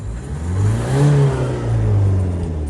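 A Mazda 3 engine revs up and holds a steady, rising drone with a faint turbo whine, close by and loud, no talking.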